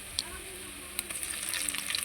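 Ginger garlic paste frying in a pan, a soft continuous sizzle with a few light clicks and faint background movement, no talking.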